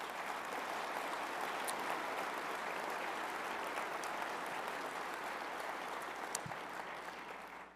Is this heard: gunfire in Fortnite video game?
no